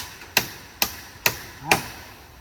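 Four sharp, evenly spaced hammer blows drive a wooden stake into the ground at a duck farm, each strike a crisp, fairly quiet knock that fades quickly, with no talk between them.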